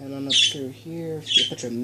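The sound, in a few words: pet birds squawking in the room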